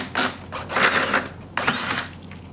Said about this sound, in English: We do strongly advise using a power drill to do this